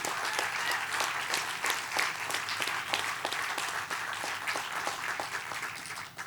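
A large audience at a fundraising celebration bursts into steady, dense applause that continues evenly for several seconds, with no clear cheering standing out above the clapping and no speech.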